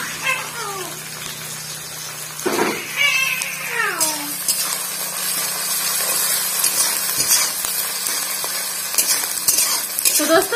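Onion and garlic drop into a hot pan with cumin and sizzle steadily, a broad hiss building and holding under some high, meow-like cries near the start.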